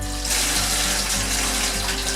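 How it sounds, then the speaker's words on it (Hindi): Cold water gushes steadily from a kitchen tap onto partly cooked potatoes, a continuous rushing splash with a low hum beneath it. "इसके ऊपर ठंडा पानी डालना है।"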